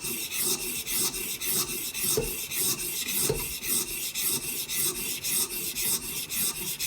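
A Benchmade Bushcrafter 162 knife blade is worked across a Hapstone sharpening stone in close, steady, rhythmic rasping strokes, roughly two per second, with no voices.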